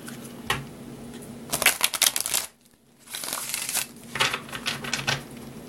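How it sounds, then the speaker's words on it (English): Tarot cards are shuffled close by in quick crisp bursts of riffling and flicking, separated by a brief pause of near silence, with no voice. "Let me get one more shuffle."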